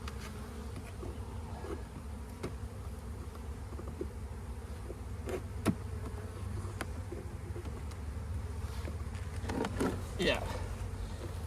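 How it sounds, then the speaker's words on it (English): Honeybees in a spring hive hum in a steady, dense buzz close by, with a few sharp clicks and handling knocks, and a voice briefly speaks near the end. "there's a few bees down here, but there are 3 frames of bees here."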